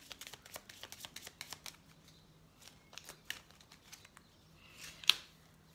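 Tarot cards are shuffled in quick, crisp riffling bursts at close range, a steady patter of card flicks with a sharper snap near the end.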